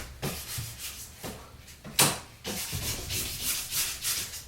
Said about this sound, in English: moving up through the grits, you'll start to feel it get a lot smoother